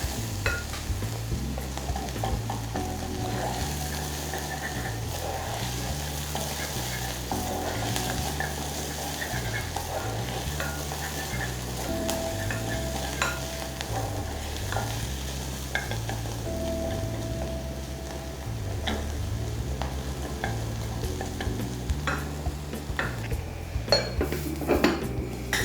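Ginger and garlic paste sizzles steadily in a pan for an egg curry while a utensil scrapes and stirs against the metal in a repeating rhythm, quiet and close, with no voices.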